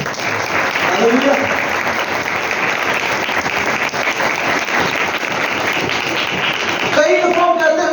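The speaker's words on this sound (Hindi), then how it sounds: "कोई यीशु के लिए तालियां बजाएगा?" A church congregation breaks into loud, sustained applause during a sermon, a dense wash of clapping that fills the space, with a voice rising briefly over it near the end.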